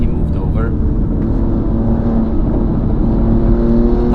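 Intake noise from a 700-horsepower BMW M2 on a race track comes through as a loud, steady engine whir and drone while someone talks over it.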